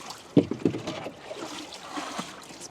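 A heavy boat is shifted in steep-banked lake water, with two sharp knocking thuds early on followed by sloshing, gurgling water and softer scrapes nearby.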